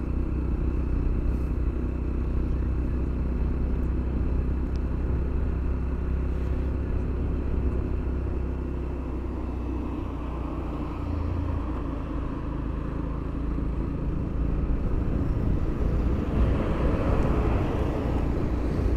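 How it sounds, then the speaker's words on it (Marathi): A car cruising along the Mumbai–Bangalore highway, a steady loud engine drone and road rumble heard from inside the vehicle throughout, with a rougher tyre-noise texture near the end. "मजा येते ह्या रस्त्यावरती गाडी चालवून."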